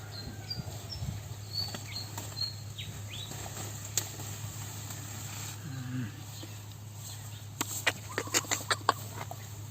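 Scattered bird calls, including short chirps and some fowl-like clucks, ring out in a forest. They range from near to distant over a steady low hum, building into a quick cluster of sharp calls near the end.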